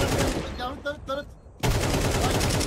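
Rapid gunfire in Counter-Strike 2, a burst of shots followed by a dense stretch of continuous firing, loud and close.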